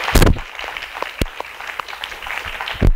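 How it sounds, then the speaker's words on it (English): Scattered applause for a panel of New York City Council Speaker contenders, with a few sharp, close claps and a soft wash of clapping behind, thin rather than a full ovation. "join me in giving a huge round of applause to our panelists"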